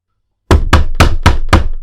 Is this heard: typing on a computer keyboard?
no